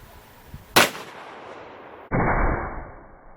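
A single loud, sharp gunshot from a .458 Winchester Magnum elephant rifle cracks close by and decays over about a second. A second heavy blast follows, with a long, rumbling tail.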